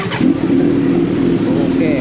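A Kawasaki Z900 motorcycle engine runs steadily and loudly up close for two seconds, with a constant low droning note and no pauses.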